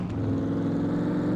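A car engine hums and revs at a steady, low mid-range pitch, close and continuous throughout the short stretch, in the video game SCUM.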